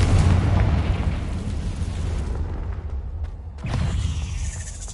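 Confringo and Bombarda spells detonate in Hogwarts Legacy, a video game: heavy, rumbling explosions roll one into another, fading briefly before another deep boom bursts near the end.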